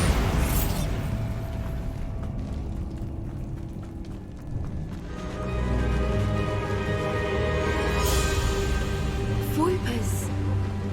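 A Bombarda spell explosion in Hogwarts Legacy, a sharp burst near the start followed by a rumbling, crackling blast and continuing game sound effects, with a voice speaking over it.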